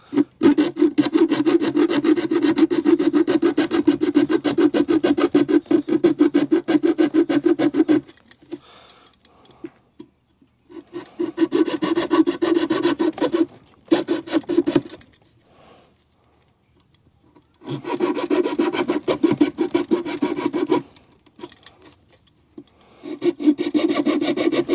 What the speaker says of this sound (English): I'm just going to use this little hand saw here.